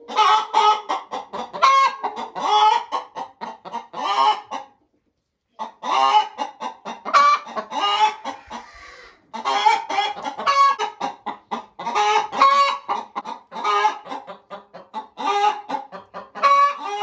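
A turkey hen and her chicks call close by. Bursts of clucking and chirping repeat in clusters, separated by short pauses.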